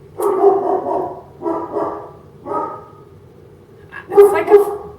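A dog barks in bursts indoors, four groups of rapid, fairly loud barks spread over a few seconds with short gaps between them and some whimpering yips.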